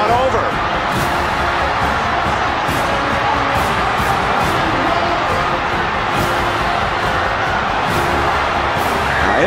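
A stadium crowd roars as fans storm the field after a last-second touchdown in a Texas Tech versus Texas football game, a dense, loud, continuous cheer with a commentator talking over it.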